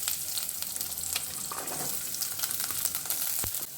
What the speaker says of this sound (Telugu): ఆనియన్స్ని కొంతసేపు వేపుకుందాము